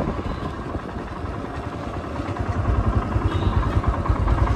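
A motorcycle engine runs steadily with a low, rumbling throb that grows slightly louder toward the end, heard close up with wind noise and no talking.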